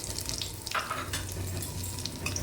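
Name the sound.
cumin and bay leaf tempering sizzling in mustard oil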